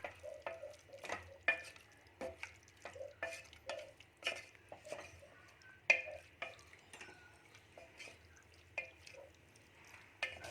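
Mutton is stirred with salt in a pan, with a spoon scraping and clinking against the metal in a quiet, uneven rhythm of about a dozen distinct strokes, close by and with no talking.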